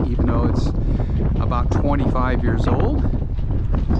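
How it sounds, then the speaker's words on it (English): Someone talks over steady gusting wind on the deck of an Allied Princess 36 ketch sailboat, the wind buffeting the microphone with a constant rushing roar. "it's kind of windy up here"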